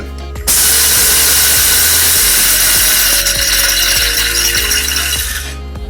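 An electric coffee grinder grinds beans for bulletproof coffee, a loud, continuous whirring and rattling that starts abruptly and runs for several seconds before beginning to wind down.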